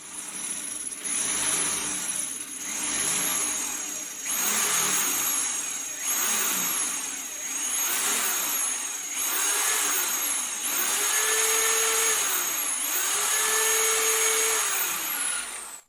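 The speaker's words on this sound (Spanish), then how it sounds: "las perforaciones sobre azulejos deben de ser sumamente suaves, nada de roto martillo" A power drill boring through ceramic tile whines in repeated gentle bursts without hammer action, spinning up and easing off about seven times in a steady rhythm, close and fairly loud, with no talking.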